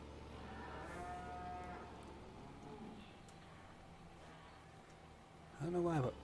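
Cattle mooing in the farming game Farming Simulator 15, several low bellowing moos near the end over a steady hum of game ambience, with a speaking voice at points.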